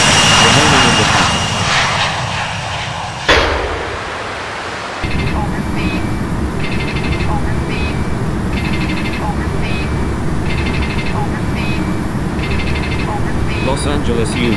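A simulated airliner rolls for takeoff on runway 25 left at Los Angeles in the Infinite Flight game, a steady loud engine roar that drops briefly then resumes, with a radio voice talking over it.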